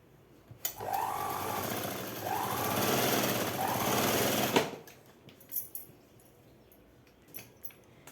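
A sewing machine stitches a seam on a night dress in a tailoring session, one continuous whirring run of about four seconds with rising and falling speed, then stops, followed by faint handling clicks.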